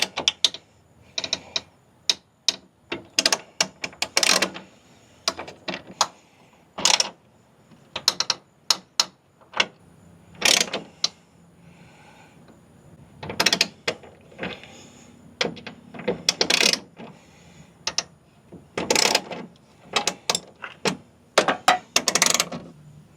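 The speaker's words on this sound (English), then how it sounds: "this is a pretty good rivet tool for sure" A hand rivet tool is worked on a Jeep Gladiator fender flare, giving a long irregular series of sharp metallic clicks and ratcheting snaps, close and unaccompanied.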